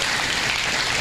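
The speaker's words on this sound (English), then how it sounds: "Let's give these kids a big round of applause" A livestock show audience gives a dense, steady burst of applause for the kids in a market lamb class, many hands clapping together at an even level with no voices over it.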